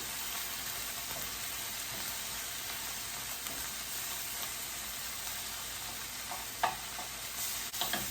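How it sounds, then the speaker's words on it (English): Butter melts in a pan before flour goes in for a creamy chicken à la king, a faint, even sizzle and hiss held throughout, with a few light utensil taps near the end. "I'm going to put the butter in, let it melt."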